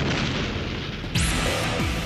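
A big wartime bomb explosion booms loud and close, a heavy low rumble with a sharp burst partway through, followed by debris-like falling tones and no voices.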